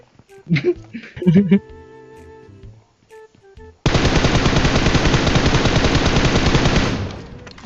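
Gunfire in PUBG: after a few seconds of chatter and game tones, a sustained loud automatic burst erupts and rattles on rapidly without pause for several seconds, then cuts out.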